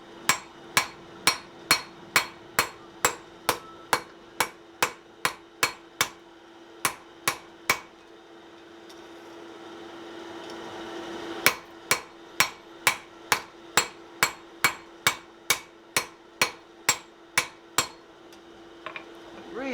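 A hammer forges and domes a metal piece on an anvil: about thirty sharp, ringing strikes in a steady rhythm, close and loud, with a pause of a few seconds midway before the blows resume.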